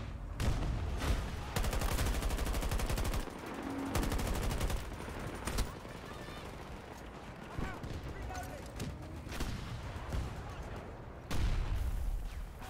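Gunfire in the Battlefield 2042 video game, with bursts of shots and heavy blasts coming in waves across a loud battlefield mix while players talk over it.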